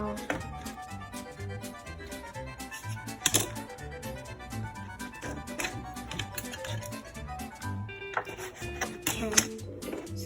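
A knife cuts squid for homemade calamari, tapping rapidly and steadily against a board in a dense run of close clicks, with kitchen clatter continuing through.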